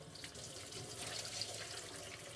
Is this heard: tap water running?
yes